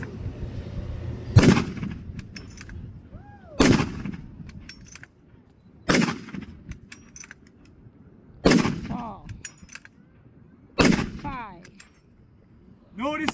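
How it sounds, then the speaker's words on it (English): A .30-40 Krag-Jorgensen bolt-action rifle fires five loud, sharp shots spaced about two seconds apart, each followed by a brief echo, with a voice talking in between. "5 rounds from the Krag."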